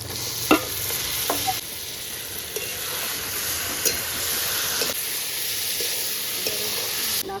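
Chicken pieces go into a pan of onion, capsicum and tomato and are stir-fried in oil: a loud, constant sizzle with scraping spatula strokes and occasional clacks against the pan.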